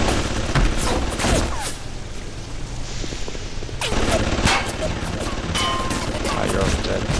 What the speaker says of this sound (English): Where are they shooting at me from?